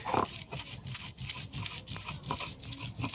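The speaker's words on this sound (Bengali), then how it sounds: "দুটো কাঁচা লঙ্কা নিয়েছি একসাথে, সব একসাথে বেটে নিচ্ছি।" Snake gourd seeds and green chillies being ground into paste by hand, with quick rhythmic rasping strokes repeating steadily, about three per second, close up and alone.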